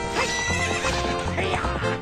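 Epona the horse in The Legend of Zelda: Ocarina of Time gives a loud, close whinny over quick galloping hoofbeats in the game's racing sequence.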